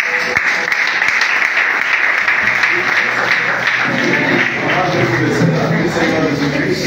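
A church congregation at a charity event claps loudly and continuously, with rhythmic applause running throughout under crowd noise and voices.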